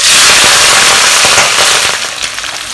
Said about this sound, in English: So we are just going to deep fry them now.